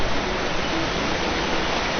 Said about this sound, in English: So this structure directly behind me is actually called a weir.